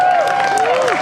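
A convention panel audience applauds and cheers to welcome Karan Ashley to the stage, a dense wash of clapping under excited crowd voices and a sustained tone.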